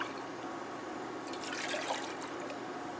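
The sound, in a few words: water poured into a pan of tomato sauce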